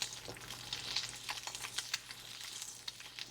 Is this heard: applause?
no